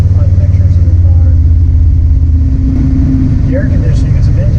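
A 1969 Ford Fairlane cruising through an industrial park, its engine giving a steady low rumble throughout, loud and close from inside the car, with a voice talking over it.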